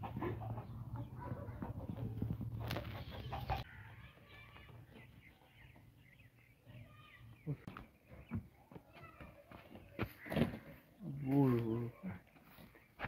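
Roosters being handled and readied for a cockfight in a crowded outdoor spot, with faint clucking and bird calls mixed into steady low background noise as several people talk.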